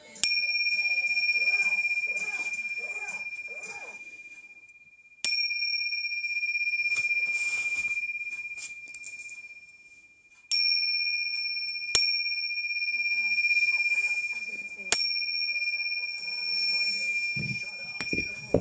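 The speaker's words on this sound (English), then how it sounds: "We're gonna tap the little bells." Small high-pitched bells are tapped one at a time, each giving a bright ring that lingers and fades over several seconds, five or six strikes spaced apart, close and clear with faint background murmur between.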